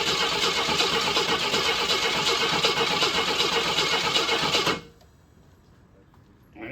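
A 1988 AMC Eagle car engine with a flooded carburetor cranking loudly and continuously, the starter grinding without catching, then cutting off abruptly into near silence.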